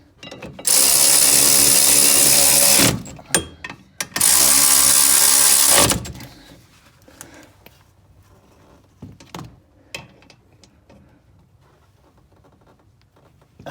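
Two long, loud bursts from a power tool driving a bolt on the rear brake caliper bracket of a 9th-generation Honda Civic Si, each running about two to three seconds, followed by softer clicks and handling noises.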